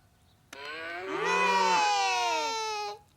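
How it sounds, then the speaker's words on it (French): A single long cow moo, loud and close, rising then slowly falling in pitch over about two and a half seconds, with no talking. "Vache."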